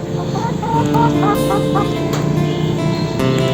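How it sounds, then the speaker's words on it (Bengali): Silkie chickens moving about close underfoot, giving soft clucks and short calls over steady background noise and occasional talk, with a passing car faintly present. "এই যে মুরগিটা আমার পায়ের নিচে নিচে ঘোরাঘুরি করছে।"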